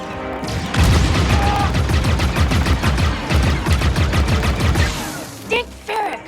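Rapid bursts of video game gunfire crackle almost nonstop for several seconds, a dense machine-gun style fusillade that cuts off abruptly, followed by a couple of brief, quieter effects.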